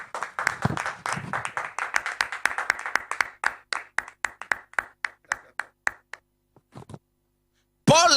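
A congregation claps together during a French-language church sermon, the rapid claps starting thick and overlapping, then thinning into single sharp claps that slow and die away, followed by a brief burst of noise at the end.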